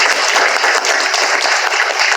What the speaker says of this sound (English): And please, a round of applause for Ella.